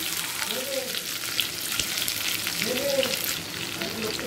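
Chopped garlic, ginger and onion frying in about a tablespoon of oil in a wok, a steady close sizzle with a couple of short stirring scrapes and no talk.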